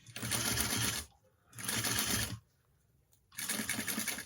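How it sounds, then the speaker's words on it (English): A sewing machine stitches along a zipper edge in a drapery workroom, running in three close bursts of rapid mechanical whirring with short quiet pauses between them. "I'm gonna just sew all along this edge that does not have the welt."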